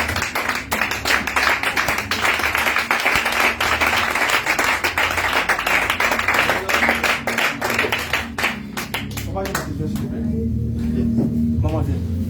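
A church congregation at a prayer meeting claps steadily and loudly for many seconds, with voices over the clapping and the applause thinning toward the end.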